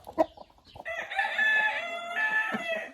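Backyard laying hens give a sharp cluck, followed by a long, loud rooster crow in two drawn-out phrases, close by on a rainy rural homestead with no speech.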